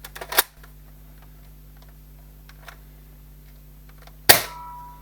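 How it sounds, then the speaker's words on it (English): A Nerf Mega Magnus toy blaster is dry fired, giving a sharp plastic snap, a long quiet gap, then a second louder spring-driven clack near the end, close and isolated with no talk. "It's a dry fire, yeah, I don't like doing that"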